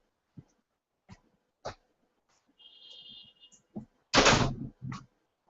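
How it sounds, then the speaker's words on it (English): A door is pulled shut indoors at a building in Hempstead, New York: scattered soft knocks and rustles, then one loud close thud followed by a smaller knock, with no talking. "I'm going to close this door."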